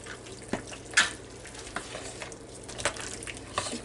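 Baked beans with drained pineapple tidbits being stirred in a pot, a soft wet scraping and sloshing with a few louder spoon clinks, close and steady with no talking.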